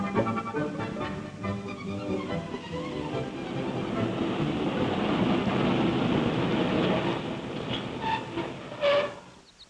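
An old tram from 1956 rolls along its rails through Mont-Royal park with a steady rumbling clatter and hiss that swells and then fades toward the end, with a few brief sharper clanks near the close.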